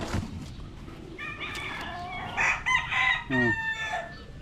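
Chickens on a farm with chicks nearby, hens clucking and a rooster crowing in short bursts, close and clear over a low background, no talking.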